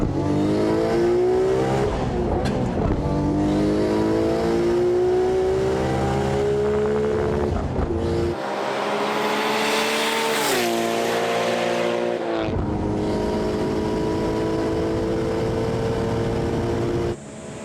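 A 610 horsepower street-tuned Nissan GT-R on Advan Neova tires launching on a 0-300 km/h speed run, loud engine climbing through rising revs with sharp gear-change breaks between pulls, close and dominant throughout.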